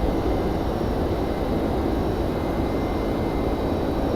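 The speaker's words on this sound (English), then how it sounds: "So HD will be doing his takeoff roll" A Boeing 767-300 in X-Plane 11 rolls down the runway for takeoff with a steady, loud, broadband engine roar that stays constant throughout, with no talking.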